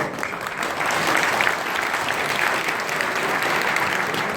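Sustained audience applause at a village unity night gathering in Aktepe, a dense steady roar of many hands clapping together for the full length, close and fairly loud with no pauses.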